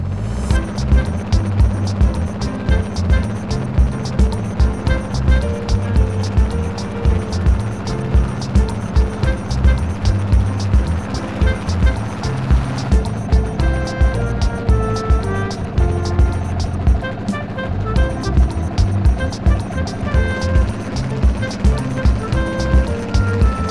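A diesel fishing boat motors out with a loud, steady, thumping engine chug that carries on for the whole stretch, close up, with the rush of water and wind around it and no voices.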